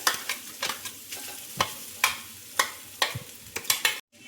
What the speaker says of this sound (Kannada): ಇದಕ್ಕೆ ಈಗ ಗ್ರೈಂಡ್ ಮಾಡಿದಂತಹ ತೆಂಗಿನಕಾಯಿ ತುರಿ ಹಾಕೊಳ್ತಿದ್ದೀನಿ